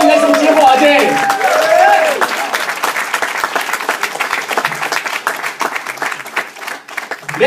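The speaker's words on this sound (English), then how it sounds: "Come on guys, some cheer for Ajay." Theatre audience at a comedy show applauding and cheering loudly, dense clapping filling the whole stretch, with a host's voice briefly heard at the start before the applause carries on alone.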